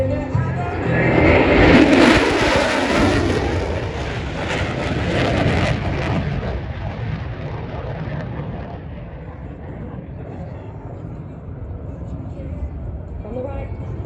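An F-18 jet roars past at the Avalon airshow in Australia, a loud broad surge peaking early then fading into a long distant rumble, while a commentator talks over it.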